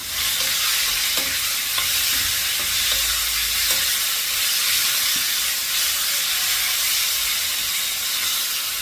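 Tamarind chutney stirred and fried in a pan: a steady, loud sizzle and hiss runs throughout, with occasional scraping clicks of the stirring utensil against the pan and no voices.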